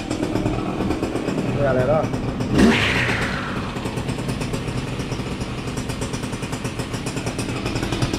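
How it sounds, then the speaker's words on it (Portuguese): Two-stroke PJ53R brushcutter engine idling with a steady, close mechanical drone throughout, while someone talks over it. "Trabalha bonito demais esse motor aí"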